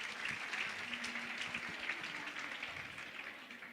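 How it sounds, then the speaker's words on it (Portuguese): An audience claps warmly for participants at a talk, a dense, steady wash of many hands that holds fairly loud throughout and fades slightly toward the end, with no voices over it. "Uma salva de palmas para eles."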